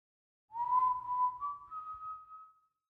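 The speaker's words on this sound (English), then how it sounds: "he began to whistle softly behind his mask" A soft, single-toned whistle drifts slightly upward in pitch over about two seconds, quiet and close with nothing else around it.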